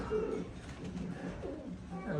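Football-shaped pigeons kept in a collection make soft, low coos, one at the start and another fainter one midway, set against a steady bed of room noise.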